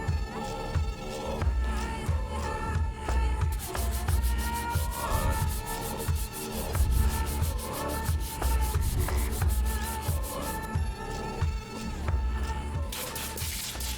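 Sandpaper rubs back and forth over dried wood filler in a white oak seam in a continuous rough, gritty scratching, close and steady. Rhythmic strokes sound throughout while music plays underneath.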